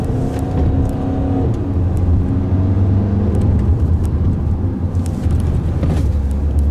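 A Seat Ateca engine pulls up from low revs with a steady, loud rising drone and tyre and road roar, heard from inside the car with no talking.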